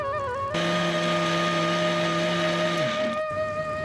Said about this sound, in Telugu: మెత్తగా గ్రైండ్ చేసుకోవాలి.